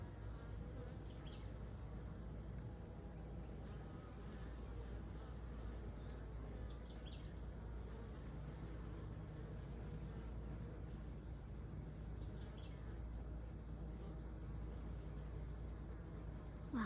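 Honeybees fanning and buzzing inside a bucket swarm trap, a faint, steady, continuous hum with occasional individual bees droning past, quiet and uninterrupted throughout.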